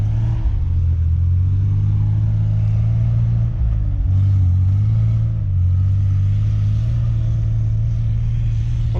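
A 1985 Toyota 4Runner with an updated newer engine revs hard and steadily while stuck in snow, a loud close droning rumble that dips briefly midway and then climbs again.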